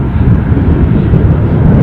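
An airliner at Dublin airport roars loud and close as a steady, broadband engine rumble that fills the whole moment without a break.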